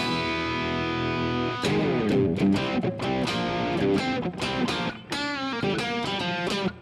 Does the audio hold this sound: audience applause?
no